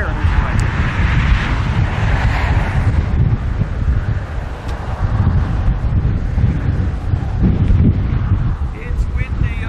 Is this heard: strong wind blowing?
yes